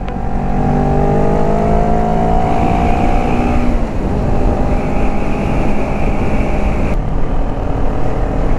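A 2019 CF Moto 400 NK motorcycle engine runs steadily while riding, its loud, close drone rising in pitch through the gears, briefly dropping and climbing again, with no talk over it.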